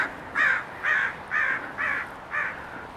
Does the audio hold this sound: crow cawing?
yes